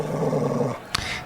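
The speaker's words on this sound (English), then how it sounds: "That's my dog" Boxer dog growling, a low rumbling growl for under a second that breaks off into a short sharp snort, close and moderately loud.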